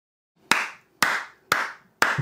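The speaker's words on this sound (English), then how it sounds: "Round of applause." Four sharp, evenly spaced hand claps, about half a second apart, close and loud, each with a short decaying tail, celebrating a finished PC build reaching the POST screen.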